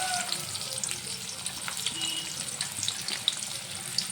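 Onions and green chillies fry in hot oil with a soft, continuous sizzle and light crackles, fairly quiet and close, with no talking over it.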